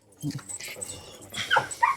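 A Kangal-type dog whimpers and whines in short, high bursts close by, with people talking over it.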